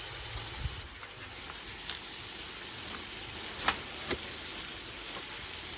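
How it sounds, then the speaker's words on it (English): Beef curry simmering in a pot gives a soft, steady bubbling sizzle with a few faint clicks and taps over a constant background hiss. "And let that simmer away."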